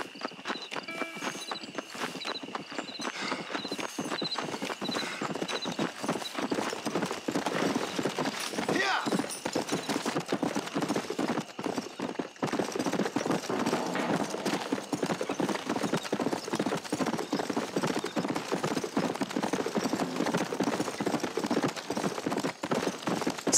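Horse hooves clip-clopping steadily in the video game Red Dead Redemption as a rider travels at a walking pace, a continuous rhythmic clatter under someone talking.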